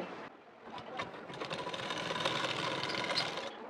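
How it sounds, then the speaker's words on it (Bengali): Sewing machine running a fitting seam on a size 40 blouse, a continuous close whirring stitch that starts softly and builds to a steady, fairly quiet hum. "তো এখন ফিটিং সেলাইটি দিয়ে নেব।"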